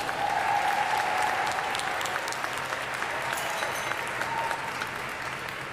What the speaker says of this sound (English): please join me for another round of applause for Jennifer Staines.